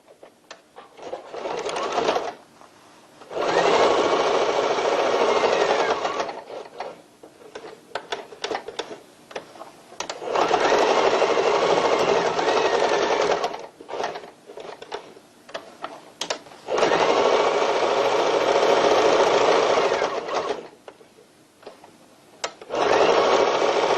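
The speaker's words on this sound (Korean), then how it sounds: "사각 박음질을 하겠습니다" A sewing machine runs square stitching on a tote bag in three long, steady bursts of rapid mechanical whirring, separated by short pauses and light handling clicks, loud and close.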